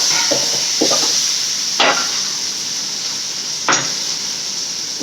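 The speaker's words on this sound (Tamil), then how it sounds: "வெங்காயம் வதங்கிட்டு தக்காளி போட்டுக்கலாம்." Onions and tomatoes sautéing in a pan for a ground-masala chicken curry, with a steady hiss of frying and a few distinct scrapes and knocks of a spoon, close by and without talk.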